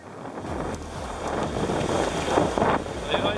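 Wind rushing past the microphone aboard a Vendée Globe racing sailboat in the trade winds, with water and hull noise, steady and loud with gusty swells throughout, no talk.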